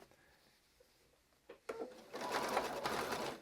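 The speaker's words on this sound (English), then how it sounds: "And just keep sewing." A domestic sewing machine stitching Jubilee bunting made from a Makower fabric panel starts with a few short taps and catches, then runs steadily in a fast, rattling whir close by.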